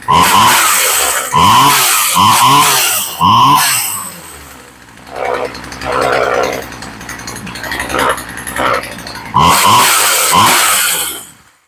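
A cheaply bought Poulan chainsaw engine revved in several loud bursts, dropping to a rough idle in between, then revving hard again near the end.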